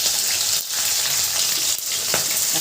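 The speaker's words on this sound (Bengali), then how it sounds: "পেঁয়াজ মরিচটা ভাজা হয়ে গেছে লাল লাল করে" Onion and chili fry in a pan with a loud, steady, close sizzle, broken by a couple of brief stirring scrapes.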